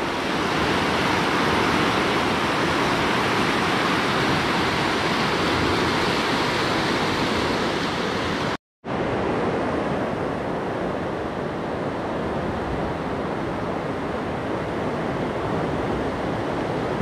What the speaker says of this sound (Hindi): पाँच के पाँच गेट में से बराबर पानी निकल रहा है, और सामने को ये इधर से जा रहा है, वो कितनी तेज आवाज़ आ रही है भाई पानी की